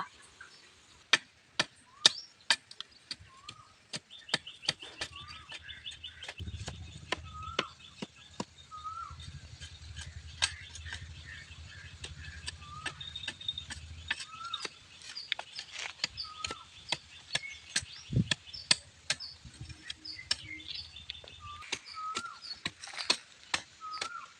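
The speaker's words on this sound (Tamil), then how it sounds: "இந்த நாரெல்லாம் செதுக்கி எடுத்துடலாம்" Sharp chopping strikes and scraping as fibre is stripped from a coconut outdoors during an Aadi festival coconut-roasting celebration, repeating at an irregular pace with birds calling and a low rumble in the background.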